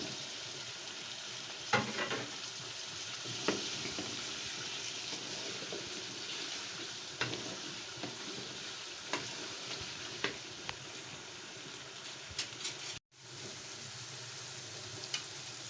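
Potatoes go into a pan of frying masala for an aloo anday breakfast, with steady sizzling and scattered scraping stir strokes that stay close, plus one brief cut of silence partway through; nobody speaks.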